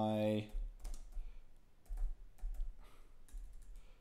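Keys clacking on a computer keyboard during Python coding, a few short bursts of soft, close typing after a brief opening tone.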